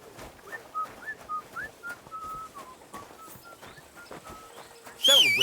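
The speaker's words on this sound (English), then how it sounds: "Don't whistle here. Nobody wants to hear it." A man whistles a short repeated tune of rising notes over horse hooves clip-clopping, in the medieval role-playing game Kingdom Come Deliverance 2; a louder burst of voice and noise comes at the end.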